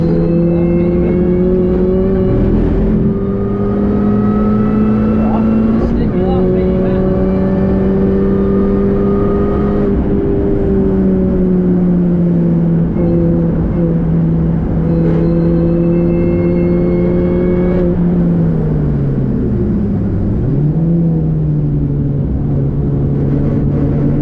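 Mini Cooper S R53 on a race track during a track day, a loud engine drone heard from inside the car that rises and falls through several gear changes and lifts off the throttle.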